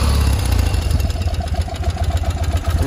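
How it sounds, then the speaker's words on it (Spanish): A BMW R100 motorcycle engine idling smoothly and steadily up close, a loud even low thrum with rapid regular pulsing throughout. "Un ralentí suave, estable, sin humos."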